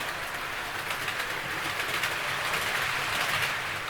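A model railway train rolls along its track with a soft, steady rumble and faint rhythmic clatter, continuous and fairly close for a few seconds with no talk.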